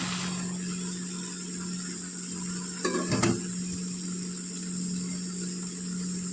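A single brief scrape of a spoon through softened jackfruit in a pot, heard once over a steady background hum, with no talking.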